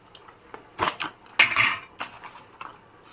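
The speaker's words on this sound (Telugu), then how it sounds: "ఇప్పుడు స్టవ్ ఆన్ చేసి అందులో బండి పెట్టుకున్నాను" A few sharp metallic clanks and clatters of a pan being set down on a lit stovetop, close and fairly loud, with short pauses between.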